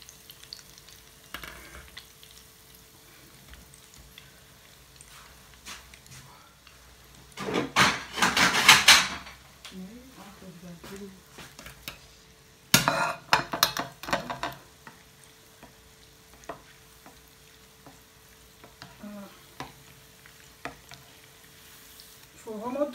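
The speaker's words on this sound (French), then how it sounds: "Il faut vraiment touiller, hein. N'hésitez pas à touiller." Thick choux pastry dough is stirred in a hot pan for African-style pâte à choux, with two loud bursts of scraping and sizzling separated by quieter stretches of faint spoon movement.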